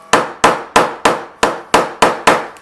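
A chisel is struck in eight sharp, evenly spaced taps, close and loud, cutting a mortise in wood for a replacement door hinge.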